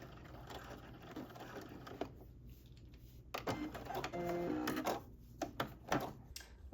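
Sewing machine back stitching at a 3/8 inch seam on a sweatsuit, brief stop-start motor runs with clicks and rustling of fabric.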